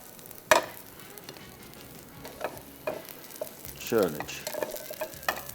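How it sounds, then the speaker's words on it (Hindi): Aloo tikki patties fry in a pan with a soft, steady sizzle, punctuated by a sharp utensil clink and occasional scraping turns; a voice briefly says a single word. "ये एक एक करके पैटी को हल्का हल्का सा और फ्राई किया"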